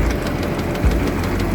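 A combine harvester engine runs during a rice harvest, a loud steady low rumble with a knocking throb and one brief heavier thump, no voices present.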